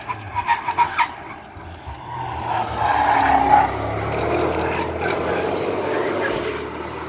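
A high-performance Mercedes-AMG car roars past on a race track at dusk, a loud engine sweep swelling and fading over several seconds, with earlier short bursts of engine revs in the distance.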